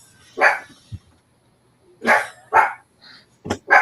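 Suki, a pet dog, lets out a few sharp barks indoors, close and loud, in short bursts separated by silences, with a small yip between them.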